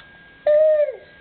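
A voice imitates an owl with a single drawn-out hoot, a clear sustained tone lasting about half a second and trailing off, with quiet surroundings.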